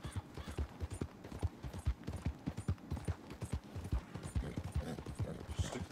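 A horse named Roach trots in Red Dead Redemption 2, hooves clip-clopping in a quick, even rhythm, close and continuous throughout.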